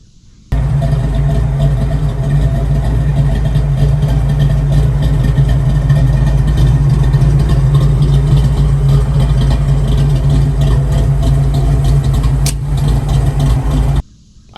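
Pop's car engine, fitted with a non-stock cam rather than a stock speed-density cam, idles loud and close with a lumpy, choppy throb that holds steady for about fourteen seconds, then cuts off abruptly.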